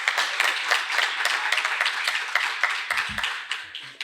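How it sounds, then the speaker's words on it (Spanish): Applause for Antonio Jara fills a business event hall, a dense crowd of clapping hands that stays steady and loud, then thins out toward the end. "Un grandísimo aplauso a Antonio Jara por estar aquí"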